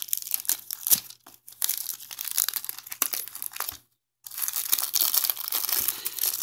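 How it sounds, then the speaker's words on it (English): Plastic shrink-wrap crinkles and tears as it is peeled off a Super Smash Bros Wii U game box, close and loud, in a steady run of crackling bursts with one brief pause near the end. "Let me take out this plastic right here"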